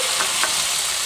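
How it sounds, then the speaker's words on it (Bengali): Tomatoes go into lightly browned onions frying in a pan, and a soft, continuous sizzle hisses with a couple of faint stirring clicks. The burst is brief, with no talking. "পেঁয়াজ হালকা ব্রাউন হয়ে এসছে। এবার টমেটোগুলো দিয়ে দেব।"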